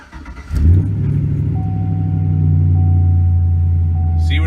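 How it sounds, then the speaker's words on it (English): Car fitted with Flowmaster dual exhausts cold starting: a starter crank, then the engine catches with a loud deep burst and settles into a steady, throaty idle close by. "I put Flowmaster dual exhausts on it, so it definitely does sound nice when it starts cold"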